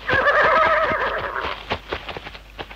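Horses neigh and whinny in a radio drama sound effect, a loud drawn-out whinny filling the first second and a half, then a run of hoof clip-clops and snorts fading out, with no talk.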